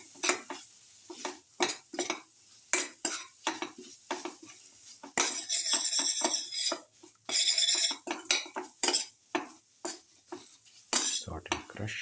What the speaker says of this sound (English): Salt and crush the tomato pieces.